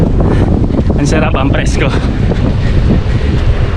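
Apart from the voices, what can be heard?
strong wind blowing into the microphone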